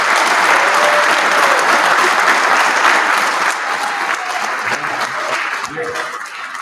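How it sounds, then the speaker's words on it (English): An audience at a law enforcement hall of fame event breaks into loud, sustained applause, dense clapping from a large crowd that carries on for several seconds before slowly thinning. "let's give a round of applause again to Adam and Megan"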